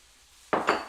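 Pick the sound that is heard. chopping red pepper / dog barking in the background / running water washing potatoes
chopping red pepper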